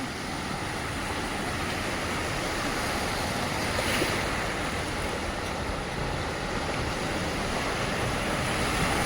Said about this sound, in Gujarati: મચ્છુ 2 કેનાલના આ કેનાલ ઓવરફ્લો થઈ ગઈ